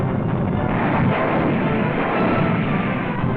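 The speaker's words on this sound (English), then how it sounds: "Jerry mortar fire lands close to our forward OPIPs." German mortar rounds land close to forward observation posts on the Italian front during the Second World War, heard as a continuous, loud, muffled rumble of blasts and rolling noise with no speech.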